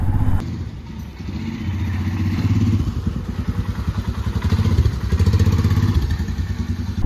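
A motorbike cruises along a highway on a long-distance ride, its engine note steady and loud and close throughout, with a low rumble and rhythmic pulsing and no voices.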